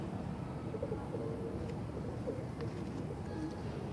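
Soft, low cooing of a Salara pigeon, a fancy breed, repeats a few times beneath a steady wash of background noise at a Sunday bird market in Multan.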